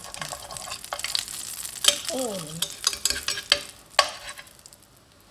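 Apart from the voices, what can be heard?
pan-fried buns (shengjian bao) frying in oil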